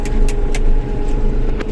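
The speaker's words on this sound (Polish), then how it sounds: "Samochód jedzie." A car on a snowy road passes close by with a steady, loud engine rumble and tire noise, plus a few short bright clicks over the droning hum.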